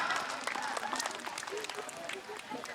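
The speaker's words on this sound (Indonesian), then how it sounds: "Tepuk tangan doang buat pemerintah yang luar biasa" A crowd at the opening of a sub-district Quran recitation competition (MTQ) in Sebemban village claps for the government, a soft, fairly distant patter of applause mixed with murmuring voices.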